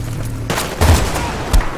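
Gunfire from the video game Battlefield: Bad Company 2: a steady low rattle followed by two louder booming bursts of shots, with no talk.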